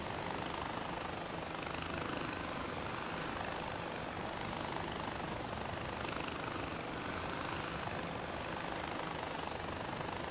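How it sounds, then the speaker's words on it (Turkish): A helicopter in the video game Far Cry 4 drones steadily with a continuous rotor and engine roar, loud and unbroken for the whole stretch, no voices present. "Bu helikopterin yükseklik sınırı var ya"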